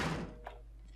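A door being shut in the horror video game Outlast, a short muffled thunk as it swings closed, followed by a soft knock and a quiet low hum.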